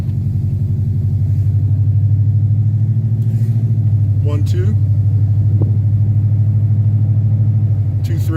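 A 1971 car's engine drones steadily from inside while driving, a low rumbling hum that holds even with little sign of revving, as a man counts aloud over it.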